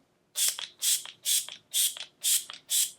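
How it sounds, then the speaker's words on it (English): Six even bursts of a fine makeup setting spray mist, each a short hiss followed by a faint click, repeating in a steady rhythm up close. "And then I always go in with setting spray one more time."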